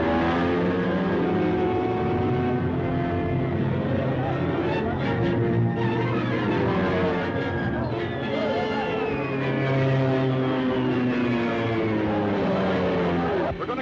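A propeller airplane drones loud and steady in flight throughout, in an old 1934 film serial soundtrack, with shifting engine tones and brief higher whines.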